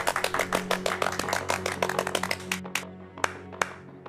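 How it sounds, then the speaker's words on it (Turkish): A few people clap their hands at the close of a wedding, a quick steady run of sharp claps that thins out and ends with two isolated final claps, close and loud. "Sen de alkışlasana."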